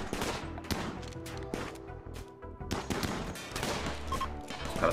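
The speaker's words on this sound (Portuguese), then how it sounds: "O cara tomou vários tiros na cabeça." Repeated sharp gunshots crack through dense RimWorld game audio, several bursts in quick succession over a steady loud background of effects.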